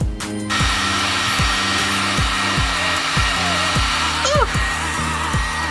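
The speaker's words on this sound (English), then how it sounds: "So let's try on the heat gun a little bit" A heat gun runs steadily while warming an aluminum overflow tank hose on an Infiniti G35, its constant blowing hiss joined by a repeating low rumbling pulse throughout.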